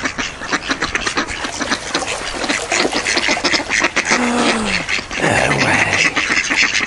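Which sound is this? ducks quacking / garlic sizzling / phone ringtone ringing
ducks quacking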